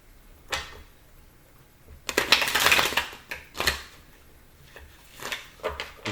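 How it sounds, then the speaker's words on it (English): Tarot cards shuffled by hand in several bursts, papery riffling and slapping rising and falling, loudest in the middle then tapering into short taps, close and with no talk. "One more shuffle."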